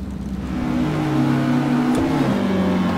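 A 1957 Porsche 718 RS 60 Spyder engine in the Assetto Corsa racing game holds a loud steady drone, its pitch dipping and rising again as it revs, with no voices.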